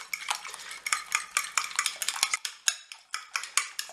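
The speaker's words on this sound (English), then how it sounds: "I'm just going to whisk them up pretty good here so that pretty much the whites and the yolks are all the way incorporated with each other" Two eggs beaten in a bowl, whites and yolks whisked together for onion baked pork chops, giving a fast, steady run of light clicking taps against the bowl, close and alone.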